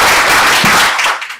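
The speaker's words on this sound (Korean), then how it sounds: "박수" Audience applause at a speaking event: a loud, dense wash of clapping from many hands that holds steady and then trails off quickly at the end.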